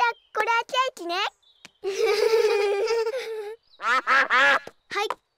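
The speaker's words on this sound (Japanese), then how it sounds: "あ、アヒルさんだ。" In an animated Peppa Pig cartoon picnic scene, cartoon ducks quack in quick, loud bursts, with one long drawn-out quack in the middle. Young characters' voices are heard around them.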